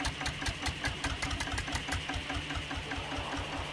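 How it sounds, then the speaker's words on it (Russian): An engine starting and running in the farming video game Farmer's Life: a steady, rapid mechanical chugging with a rhythmic knock, fairly loud and continuous, with no talking. "Подключи двигатель."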